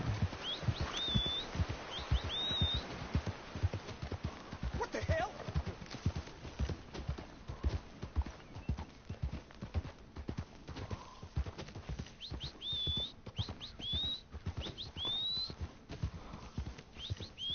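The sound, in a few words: horse walking, from video game Red Dead Redemption II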